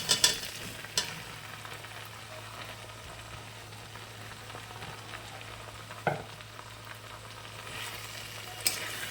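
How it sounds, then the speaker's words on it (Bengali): Vegetables for sukto sizzle softly in spice paste, a low steady frying hiss broken by a few sharp clinks of a spoon against the pan. "ভালো করে মশলা দিয়ে একে খানিকটা কষে নেব"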